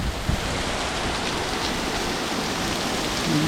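Heavy rain pours during a severe thunderstorm on 9 August 2021, a loud, dense and constant hiss of downpour drumming on surfaces close by, with no voices.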